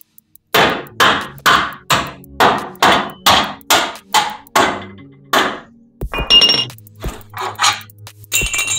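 Sharp metallic hammer taps knock off retainer parts, about a dozen evenly spaced strikes followed by a few irregular clinks and taps, close and loud with no talking.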